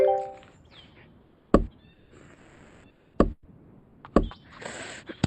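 Bat meeting ball in a cricket video game: three sharp, hollow knocks at uneven intervals over quiet game ambience, with faint chirpy effects in between.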